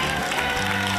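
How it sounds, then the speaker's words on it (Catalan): Studio audience at a televised Catalan dictation quiz show breaks into steady, dense applause that fills the brief moment, with clapping close and continuous throughout. "Fort aplaudiment pel Joan."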